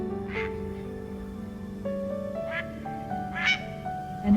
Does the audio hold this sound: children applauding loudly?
no